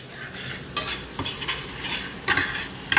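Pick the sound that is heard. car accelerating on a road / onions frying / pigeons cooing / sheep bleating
onions frying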